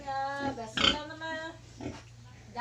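A pig grunts and squeals in a farm pen, the calls close and moderately loud, with someone talking alongside.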